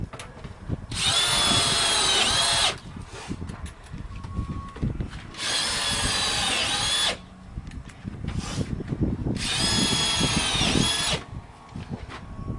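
A power drill driving screws into a wooden gate post: three loud, close bursts of whirring, each about two seconds long, separated by brief pauses with faint handling noise.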